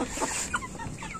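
Young Marans cockerels clucking softly in a farmyard, a few short scattered clucks at low level with no talk.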